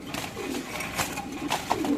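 Soft pigeon cooing with low, rounded calls, a few brief louder chirps near the end over a steady background murmur.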